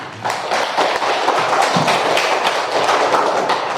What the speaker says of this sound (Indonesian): kita beri aplaus kepada Amira